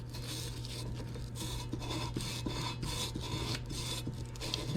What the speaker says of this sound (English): Just got this emery cloth on this socket.